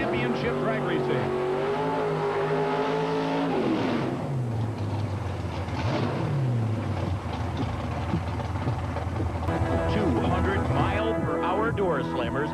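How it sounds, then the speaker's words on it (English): Pro Mod stock-bodied drag racing cars with 600 to 700 cubic inch nitrous engines at a championship event roar loudly, with rising revs and sweeping engine pitch as they pass, under continuous narration. "Ferocious, awesome machines in stock body cars over 200 miles an hour in 6 seconds."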